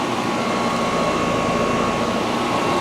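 American Standard Gold Series 3-ton 13-seer heat pump running in cool mode, a steady, loud broadband whoosh of fan and compressor with a low hum, holding even throughout.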